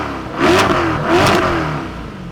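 A 2022 Chevrolet Corvette Stingray 3LT with a 6.2-liter mid-mounted V8 revs twice in quick succession, each rise swelling loud and close before settling back to a steady engine hum.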